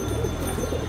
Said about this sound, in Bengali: আর এখানে বিভিন্ন ধরনের গ্রিবাজ কবুতর আছে